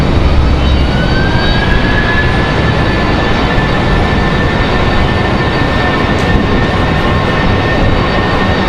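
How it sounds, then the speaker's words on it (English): An Airbus A319 departs outside an airport, its engines giving a loud, steady roar with a sustained droning buzzsaw whine held throughout, wind buffeting the microphone. "Good sounding departure out of the A319. Nice buzzsaw sound."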